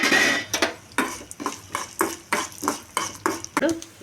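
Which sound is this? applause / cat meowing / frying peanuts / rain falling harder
frying peanuts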